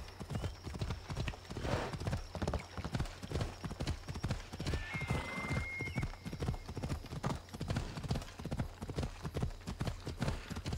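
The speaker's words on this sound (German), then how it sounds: "Nein, ist ja nur ein Pferd." Horse hooves clip-clopping in the video game Assassin's Creed Odyssey, a quick regular series of hoofbeats at moderate volume, running steadily from start to finish.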